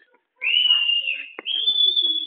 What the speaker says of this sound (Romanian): Fluier, fluier, fluier!